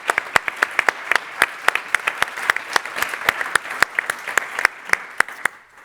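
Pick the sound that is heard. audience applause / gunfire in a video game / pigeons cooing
audience applause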